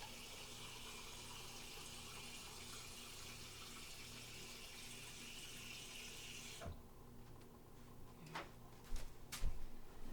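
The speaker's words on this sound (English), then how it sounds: "I'm going to get tap water." A kitchen faucet runs in a steady rushing stream, then shuts off, leaving a few soft clinks and handling sounds.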